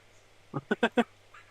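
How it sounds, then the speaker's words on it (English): A goose honks in the background, four quick nasal calls in a tight burst followed by a fainter call, standing alone against a low steady hum. "I didn't even notice the goose in the background."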